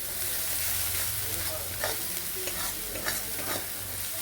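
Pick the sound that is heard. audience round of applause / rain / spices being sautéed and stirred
spices being sautéed and stirred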